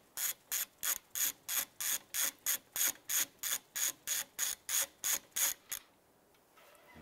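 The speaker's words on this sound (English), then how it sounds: "I'm going to go ahead and remove this 13 millimeter nut. We're using a deep socket and an extension." A hand ratchet with a deep socket and extension loosens a 13 mm nut on a 2011-2019 Ford Fiesta during A/C condenser removal, giving about sixteen crisp, evenly spaced clicking strokes close up, then stopping.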